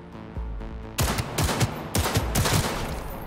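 Rapid gunfire in Cyberpunk 2077, a quick run of sharp close shots in clustered bursts following a quieter opening.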